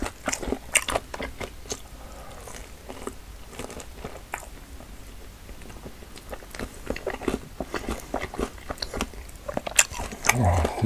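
Someone bites into Bburinkle cheese balls and chews them close up, making crisp crunches followed by steady soft chewing and squishy mouth sounds. The eating is quiet and intimate.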